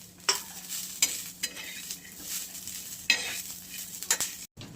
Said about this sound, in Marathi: तर भाजून घ्यायचे शेंगदाणे आणि मिरची लसूण पण टाकला मी त्याच्यातच भाजायला